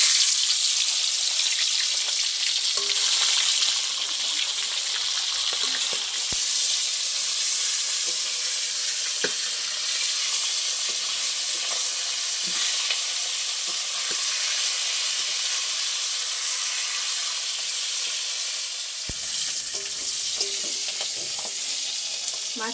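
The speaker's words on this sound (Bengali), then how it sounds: "তেল গরম হয়ে গেছে, মাছের মাথাগুলো দিয়ে দেবো।" Fish heads fry in hot oil in a wok, giving a steady, loud sizzle that runs throughout with a few faint clinks and stirring sounds. No one speaks.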